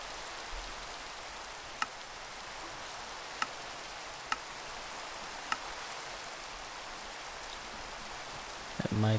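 Steady rain hissing in a Minecraft modpack game, a soft, even wash of rainfall with a few sharp ticks and a brief thump at the end, heard alone without talk.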